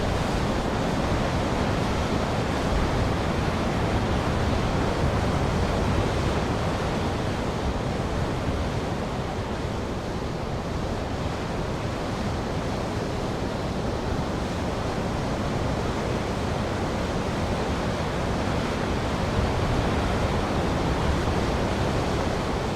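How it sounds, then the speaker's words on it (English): The River Ribble flowing at Stainforth on a hike, a steady loud rush of water that fills the whole stretch without pause, with no voices. "this is Stainforth course, which is actually on the River Ribble."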